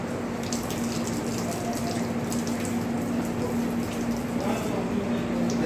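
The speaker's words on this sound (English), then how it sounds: "Bhargavi, just wash it under the tap water." Tap water runs steadily into a school sink while something is rinsed under it, a continuous gushing hiss with a faint pump-like hum beneath.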